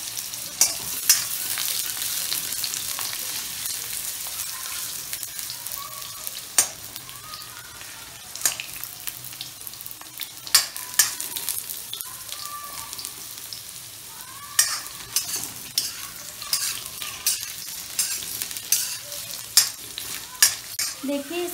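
Potatoes shallow frying in oil in a pan for aloo do pyaza, a steady crackling sizzle with frequent sharp pops and occasional stirring scrapes, close and continuous with no talk.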